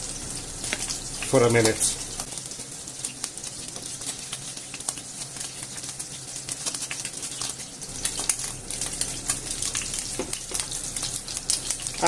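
Meatballs sizzle in hot oil in a pan with a steady, bright crackling hiss under a person speaking, with a few louder spits and pops.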